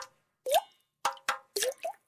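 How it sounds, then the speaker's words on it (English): Water leaking from household pipes drips in clear, separate plops, one alone and then a quicker run of four, each drop close and crisp against silence. "Hear that? That's the sound of water coming from leaking pipes."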